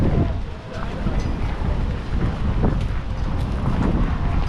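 Strong gusts of wind buffet the microphone at an outdoor market on market day, a constant rough roar with people talking nearby.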